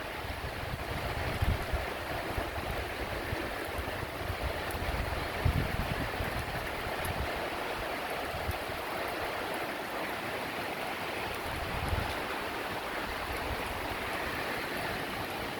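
A moderate summer thunderstorm with rain and a northeast wind, heard as a steady rushing wash of rainfall and gusts, with low rumbles swelling now and then in the background.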